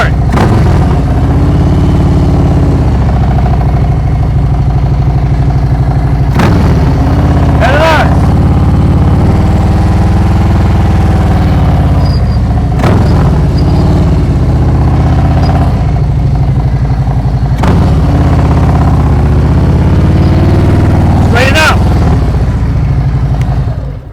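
A motorcycle rides slow-speed turn practice in Ohio with the rear brake held through the turn, its engine a loud, steady, close drone whose throttle swells and eases, broken by a few brief sharp bursts of noise.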